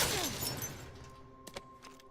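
A glass bottle smashes in the Resident Evil Requiem video game, a loud sharp shatter at the start followed by scattered tinkling fragments and a couple of small clinks as the debris settles.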